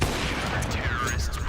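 Rapid video game gunfire crackles without pause, dense and loud, with a faint voice underneath.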